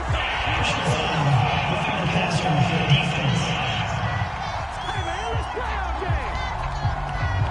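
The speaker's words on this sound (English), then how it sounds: "Well, this crowd does not like that call." Arena crowd in a PS4 football video game reacting to a penalty call, a steady rumbling murmur of voices with scattered shouts and jeers, holding at an even level throughout.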